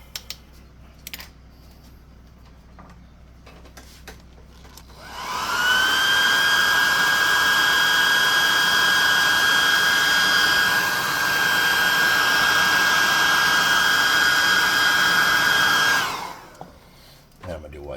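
A hair dryer drying paint on a tabletop miniature, switched on after a few seconds of quiet and blowing as a loud, steady whine for about ten seconds before cutting off.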